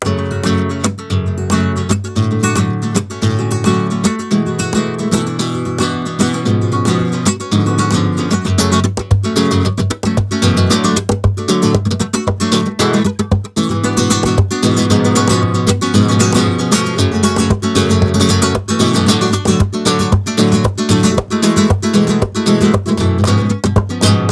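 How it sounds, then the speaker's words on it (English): Rapid, dense guitar strumming with percussive rhythmic accents, loud and close, flowing continuously in a lively flamenco rumba pattern with no voices. "this is a flamenco rumba"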